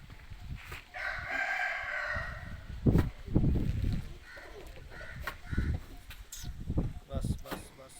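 Aseel rooster crowing at a farm visit, one drawn-out crow in the first seconds, fairly close, with people talking throughout and other fowl sounds around.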